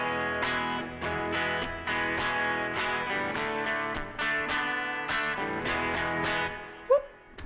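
Electric guitar plays a piano-solo part on keys-style chords from a song, with a steady run of ringing strummed and picked chords, clean and up close, ending in a brief bent note.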